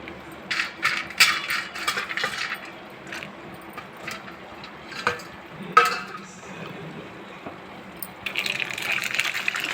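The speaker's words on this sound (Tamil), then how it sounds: "நெய் காஞ்சதும் இந்த முந்திரி போட்டுக்கோங்க." Cashews are dropped into hot ghee in a pan, with light clinks and rattles at first, then a steady sizzling hiss of frying near the end.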